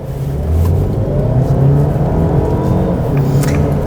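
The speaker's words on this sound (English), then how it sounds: "let's pop you into sport mode and let's floor this thing." A Mercedes-Benz C300e hybrid estate accelerates at full throttle in sport mode, its engine note swelling and holding strong over low road roar inside the cabin, with no voices.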